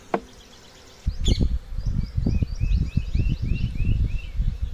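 Honey bees buzz around a bee box on a honey farm, a steady close hum with scattered thumps and rustles and faint chirps running under it throughout.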